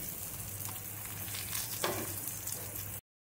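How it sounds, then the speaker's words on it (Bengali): Mango pieces fry with spices in a pan, giving a close, steady, dense sizzle that runs evenly and then cuts off abruptly. "আমগুলো কিছুটা ফ্রাই হয়ে গেছে"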